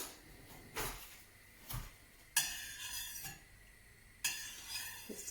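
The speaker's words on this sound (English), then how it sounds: "Just to stir that bit." A spoon stirs warm milk in a pan over low heat, giving a few soft scrapes and clinks spaced apart against a quiet kitchen background.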